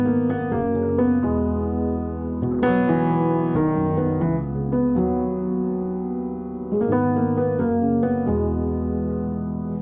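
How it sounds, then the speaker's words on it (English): Soft, muted felt piano playing gentle sustained chords, layering Keyscape double felt and Contact's Giant piano, with a slightly warbly, layered tone, steady and alone. "Soft piano is mainly the lab soft piano with the Keyscape double felt and the Giant"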